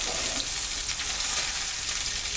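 Pork cordon bleu fries on high heat with a dense, continuous close sizzle and faint scraping as a spatula works around the pieces.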